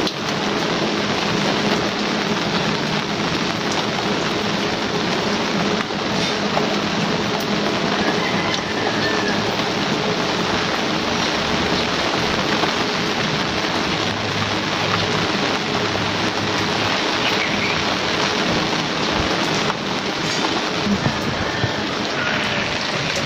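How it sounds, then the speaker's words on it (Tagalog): Steady rain falls on potted plants, including portulaca, outdoors at home, a dense, constant hiss of drops that stays loud and unbroken throughout with no talking. "So ngayon naman po umuulan."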